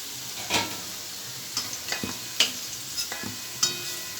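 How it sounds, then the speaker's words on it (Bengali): Potatoes fried until reddish in oil crackle in a pan beneath a sharp spatula scraping and tapping against the metal every half second or so, nearby and without talk. "আমার লাল লাল করে আলু ভাজা হয়ে এসেছে।"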